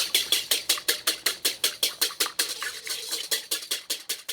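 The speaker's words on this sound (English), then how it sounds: "I start with an egg, whisk it" A fork beats an egg in a bowl for potato pierogi dough, making fast, even clicks against the bowl at about four strokes a second, close and alone, with the rhythm loosening slightly toward the end.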